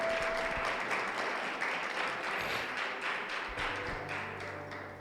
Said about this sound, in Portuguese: E se ele merece uma salva de palmas, aproveita que essa é a hora.